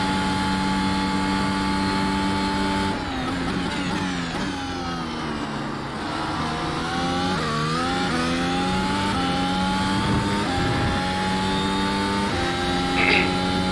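A Mercedes F1 W13 engine in the iRacing simulator screams on track, loud and close. Its pitch climbs steadily through each gear and drops at every upshift, in a repeating pattern of rising revs.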